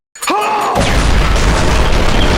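A heavy bomb blast in Portal 2 bursts in after a brief whooshing lead-in, then rolls on as a loud, sustained rumble and crackling debris, with no voices over it.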